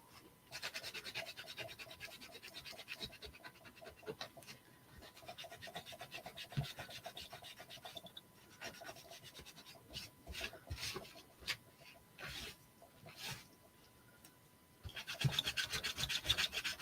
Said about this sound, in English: And I'm going to wipe off the back.